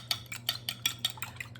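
Wire whisk rapidly beating egg custard for flan in a bowl, a fast run of about eight light clicking, scraping strokes at a steady rhythm, close and fairly quiet with no voices.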